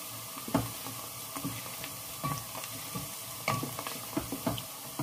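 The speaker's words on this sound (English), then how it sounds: "So now I'm frying the onions before I start adding the red pepper and the" Onions frying in a pan, a steady soft sizzle with intermittent stirring scrapes and clicks, close and fairly quiet, no talk.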